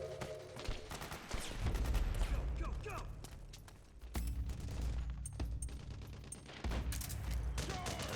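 Gunfire in the video game Metal Gear Solid 4: bursts of automatic fire and booming shots in a chaotic firefight, fairly loud with short gaps, mixed with shouted in-game voices.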